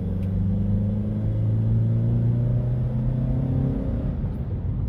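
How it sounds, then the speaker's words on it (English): A car accelerates hard, heard from inside with the engine note rising in a steady, loud drone that climbs through the gears, with no voices. "Hard acceleration."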